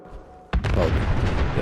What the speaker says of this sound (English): Oh, yep, there's an explosion.